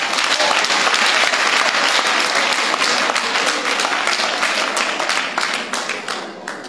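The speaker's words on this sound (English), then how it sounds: "A clap for him." Warm applause from a church congregation during a worship service, loud, dense clapping filling the room throughout and easing slightly at the end.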